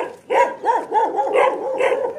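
Several dogs bark in a rapid run of about five sharp, close barks over a couple of seconds, loud and clear with no talking over them.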